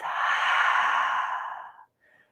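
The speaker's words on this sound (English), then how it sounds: "Exhale through your mouth." A long, deep exhale through the mouth in a yoga session for hips, knees and glutes, a steady breathy rush lasting nearly two seconds before fading, then a faint short breath after.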